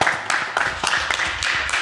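Scattered clapping from a startup pitch-event audience welcoming the next founder, a short burst of claps with some background murmur.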